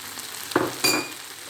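Spices such as salt, chili flakes, black pepper, cumin and curry powder are stirred through chicken and mushrooms in a pan, making two short scraping swishes over a faint background sizzle, close and fairly loud.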